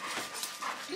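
A dog whimpering indoors at home, a short, soft run of high whines and faint yips close to the microphone.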